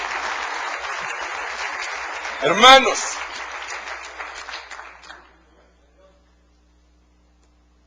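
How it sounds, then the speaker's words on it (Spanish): A church congregation claps in dense applause that thins out and stops around the five-second mark, with a preacher briefly calling out over it, then near silence. "denle un aplauso al rey"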